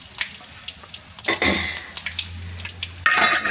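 Cumin and mustard seeds fry in hot oil with a close, crackling sizzle and scattered pops, and a sharp burst of hissing swells up near the end.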